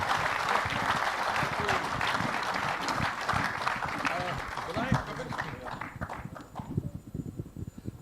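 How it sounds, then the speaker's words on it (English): Audience applauding for the 1983 cricket team at a stage event, dense steady clapping that carries through most of the clip and then thins out, with voices mixed in. "So let's give them a big round of applause, please."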